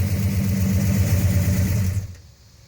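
Dodge 68 Hemi V8 engine running close by with a deep, throbbing rumble that holds steady, then drops away sharply near the end as it shuts down or fades.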